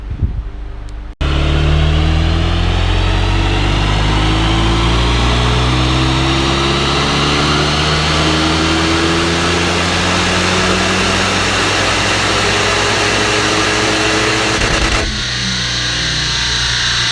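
A standard Renault Megane RS250 with 125k miles runs on a dyno under full power. The engine roars loud and close, its pitch climbing steadily for about fourteen seconds before abruptly dropping back to a lower drone.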